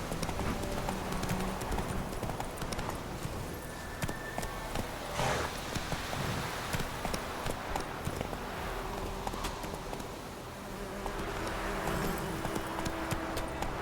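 Horse hooves pound in a steady galloping rhythm across uneven ground in The Witcher 3, close and continuous throughout, with game ambience underneath and no talking.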